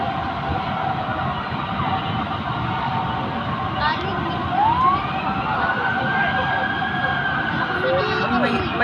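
A fire truck siren wails as the engine arrives at a house fire on Jaboneros Street, its rising and falling tone riding over dense street noise and crowd chatter, with people talking nearby throughout.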